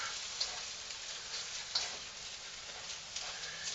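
Egg frying in a pan alongside chicken lo mein noodles in olive oil gives a faint, soft sizzle with a few light clicks of stirring.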